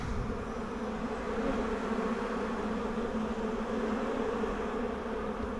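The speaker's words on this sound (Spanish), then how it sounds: "Yo le siento a las abejas muy agitadas." Africanized honeybees swarm around an open hive frame in Ometepe, Nicaragua, their dense agitated buzzing steady and close throughout with no pauses.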